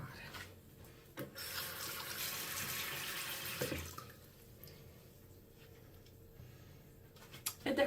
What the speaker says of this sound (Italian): Vado a risciacquare la mia maschera.